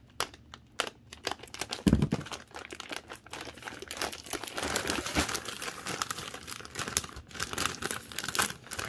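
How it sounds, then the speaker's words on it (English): A plastic mailer package being torn open by hand, with crinkling, ripping and crunching bursts close up and fairly loud, in a steady scrappy run without talk. "we can just tear it off, it looks like"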